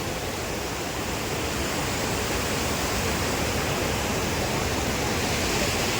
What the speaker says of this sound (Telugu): నా వెనకాల చూడు ఎట్లా పోతున్నాయి నీళ్ళు